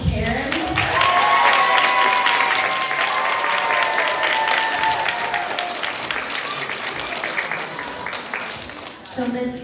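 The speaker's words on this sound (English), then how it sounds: "So we want to give a big round of applause to Karen." Audience applause for Karen at a reader's theater event, a loud sustained wash of clapping that slowly tapers toward the end, with some voices talking over it.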